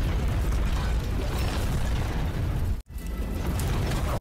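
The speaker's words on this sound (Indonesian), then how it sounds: "Ledakan dahsyat pun menggema hingga menciptakan muntahan api yang sangat besar." A loud, sustained roaring blast fills the air with heavy low rumble and crackle, briefly cutting out before the roar resumes.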